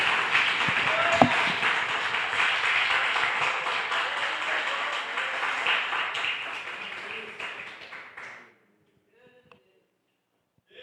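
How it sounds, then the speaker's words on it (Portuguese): Church congregation applauding at an evangelical service, a dense, steady wash of clapping that fills the room for about eight seconds before cutting off into near silence. "Podemos aplaudir ao Senhor por essa palavra?"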